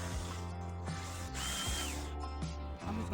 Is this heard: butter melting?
no